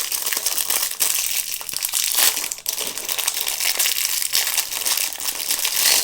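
A plastic sachet holding wooden meeples is crinkled and torn open up close, giving loud, irregular crackling and crumpling bursts that run through the whole stretch with a brief lull midway.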